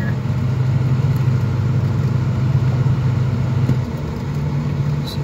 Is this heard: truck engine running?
yes